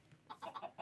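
Grey chicken in Minecraft (FTB Sky Odyssey), a few quiet clucks in a quick uneven rhythm, faint and alone.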